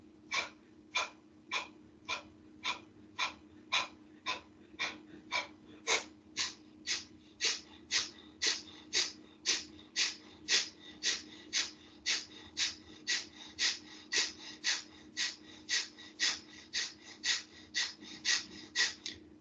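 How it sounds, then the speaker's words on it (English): Rapid forceful breathing exercise with about thirty sharp, even exhales through the nose and passive inhales between them, close and steady in a fast regular rhythm. "I'm going to rapidly exhale, passively inhale"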